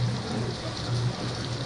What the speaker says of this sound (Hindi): बारिश कम हो जाएगी तो चला जाऊं। ये तो अचानक तेज ही आ गई।